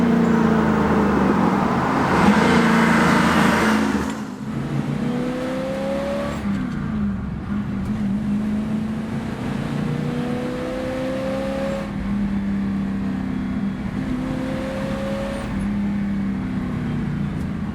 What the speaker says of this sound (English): Just like any old kind of carbureted V8 like this, they don't rev very high.